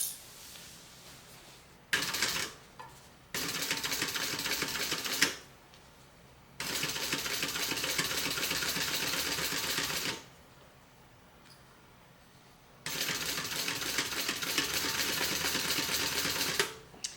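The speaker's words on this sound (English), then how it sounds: "we're going to top stitch right on the top piece" A domestic sewing machine top stitches along a bag seam in several long continuous runs, each a steady loud mechanical whir, separated by short pauses with no talking.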